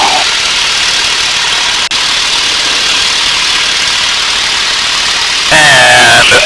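A T-6 Texan's radial engine is at full takeoff power during the takeoff roll, a loud, steady, droning roar close up, with a brief dropout and some added rattle near the end.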